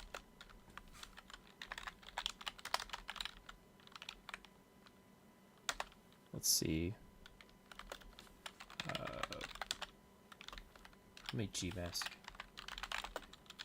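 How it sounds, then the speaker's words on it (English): Loud computer keyboard typing picked up by a new streaming microphone, clattering in quick bursts close to the mic throughout, with a voice talking in between. "my keyboard is really loud in the stream"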